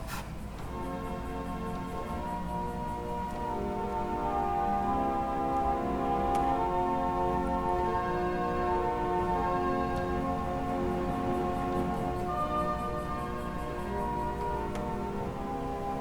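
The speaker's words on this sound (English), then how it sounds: "the vox angelica is meant to be coupled with the celestial and closing the full box to give you that full string sound" Sustained Willis pipe organ string tones, vox angelica coupled with celeste in a closed swell box, a soft shimmering chord with a gentle beating waver, steady and full throughout, with a faint ticking in the background.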